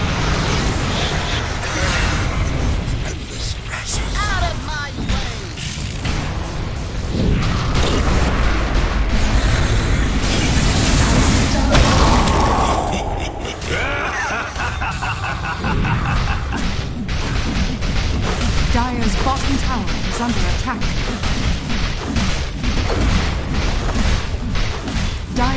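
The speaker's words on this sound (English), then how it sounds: "Dire's middle tower is under attack." Dota 2 combat during an attack on a tower. Repeated booms, crashes, whooshes and impact hits pile up densely in a loud, busy mix, with game voice announcements heard among them.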